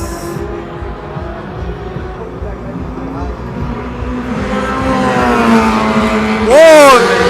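A Le Mans 24 Hours race car, with Porsche and Toyota prototypes in the 2016 night running, drones steadily at a distance, then one screams past up close with a rising-and-falling engine whine near the end, under a commentator's voice.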